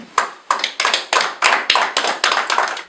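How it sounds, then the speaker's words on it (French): Close, sparse clapping at a general assembly meeting in Brussels: about ten sharp, evenly spaced claps from a small group, each a loud crisp burst, with no talking. "je pense que nous devons applaudir"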